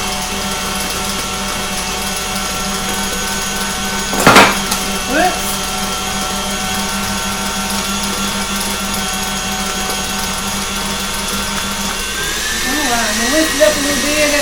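Electric mixer whirring steadily through red velvet cake batter, a loud continuous motor drone with a few knocks and clatters, a voice talking over it.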